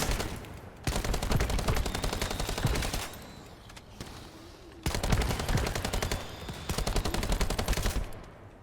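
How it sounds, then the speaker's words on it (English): Gunfire in the video game The First Descendant comes in dense rapid bursts, two long loud volleys separated by a short quieter gap, with no talk over them. "he takes a shot and then he reloads"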